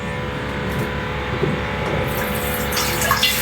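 Steady running water from a tap while rice and lentils are rinsed for khichuri, a continuous close gush with faint splashing throughout.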